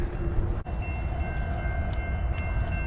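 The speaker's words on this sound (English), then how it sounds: "It's like we got a train hanging out on the railroad again, on the crossing." A train sits at a railroad crossing, its steady low rumble and engine drone continuous throughout, with faint tonal squeals and a brief dip near the start, heard from close by a gravel road.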